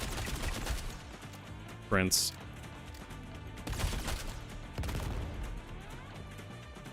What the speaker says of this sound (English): I heard an explosion. That was me shooting some mines.